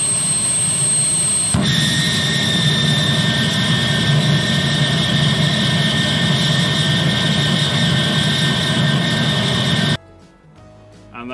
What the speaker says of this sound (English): probably the world's largest homemade jet engine, or DIY gas turbine